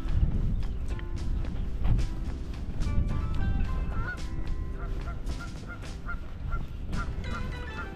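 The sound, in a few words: geese honking near water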